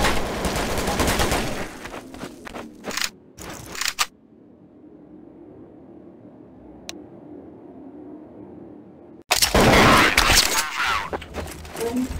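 Gunfire from the video game Counter-Strike: Source comes as dense, loud bursts of shots, then a long quiet gap with faint hum, before heavy firing resumes.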